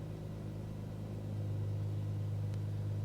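A Cirrus SR22 engine idles at 1000 RPM in Microsoft Flight Simulator. It is a steady, close, low droning hum that thickens slightly partway through, alone without talk.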